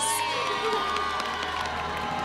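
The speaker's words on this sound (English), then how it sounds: "we should all give her a round of applause" Pageant audience at Miss South Africa erupts in loud cheering, whoops and crowd noise that fills the room in a continuous wash.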